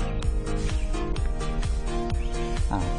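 A remotely triggered BHT alarm on a Yamaha Vixion motorcycle sounds from a distance, a loud electronic alarm pulsing in a fast, repeating chirping pattern throughout.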